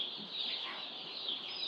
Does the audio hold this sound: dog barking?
no